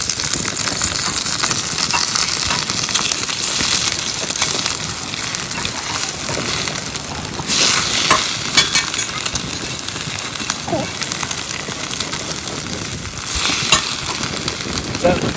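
Eggs sizzle in oil in a pan outdoors in a park, a steady crackle beneath heavy gusting wind buffeting the microphone for the whole stretch, with faint voices at moments.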